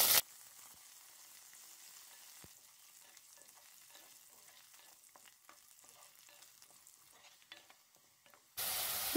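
Potatoes and garlic cloves fry in a pan with a steady, soft sizzle and light stirring clicks. A louder burst comes at the start and again at the very end.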